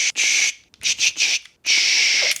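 A voice imitates an oiled nail gun misfiring with its pin not firing, making several close hissing bursts: two short ones, a quick cluster, then a longer sustained hiss.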